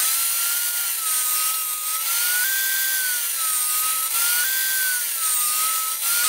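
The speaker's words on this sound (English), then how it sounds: "I wanna get to cutting my thin strips of cedar" A saw rips thin cedar strips for a barn birdhouse, giving a continuous high whine that wavers slightly in pitch as the cut proceeds. It is steady and close, with no low rumble beneath it.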